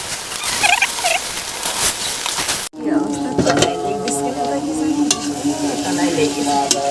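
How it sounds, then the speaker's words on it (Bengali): Lentil khichuri made with chana dal cooks in a kadai in a village kitchen, sizzling and spattering steadily. A brief break comes early, then dense crackle continues with faint voices in the background. "বুটের ডাল কড়াই তো ধরবে। কড়াই টাপ টাপ হয়ে যাচ্ছে তো,"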